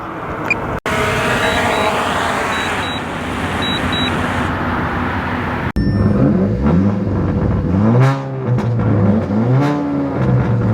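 A car with a modified exhaust drones steadily, then revs up in repeated rising-and-falling bursts, loud and close, with a couple of brief electronic beeps early on.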